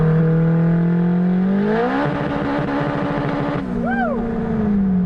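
A turbocharged car pulls hard in third gear on a highway, the engine note climbing steadily and loudly before a brief shift-like dip, then revving on with a whistling turbo tone rising and falling near the end.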